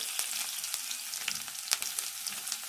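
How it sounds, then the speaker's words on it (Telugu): Crushed garlic and dried red chillies sizzle in hot oil for a spice tempering, a bright crackling fry with sharp pops and spits scattered over a steady hiss, close and alone. "ఈ తాలింపు ఇట్లా వేగినాక ఎల్లిపాయలు వేసుకోవాలి"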